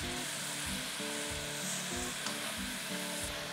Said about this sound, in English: Flip it over, sear it on the other side.